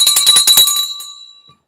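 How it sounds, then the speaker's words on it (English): The stock market closing bell rings in a rapid burst of metallic strikes for under a second, then a bright tone hangs and fades away, loud and close. "We have the bell."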